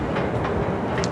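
A Kunming metro train rumbles along steadily with a constant low roar and faint rhythmic clatter from the carriage, heard from inside.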